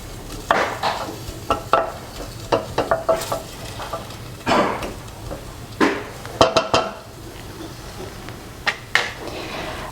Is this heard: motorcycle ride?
no